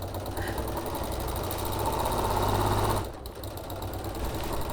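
A sewing machine stitching a quilted jacket runs at a steady, even hum with a fine rapid rattle, briefly dipping near the end before carrying on.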